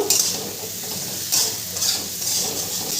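Fried cauliflower with potato and spices is stirred and sautéed in a pan over a medium gas flame, with a soft sizzle under intermittent scraping strokes of the spoon.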